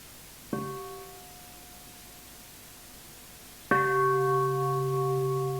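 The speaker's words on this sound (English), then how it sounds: "So now we listen to a sound of the bell." Two strikes of a meditation bell, the first ringing out and fading, the second louder and sustaining a long, clear resonant tone in quiet surroundings.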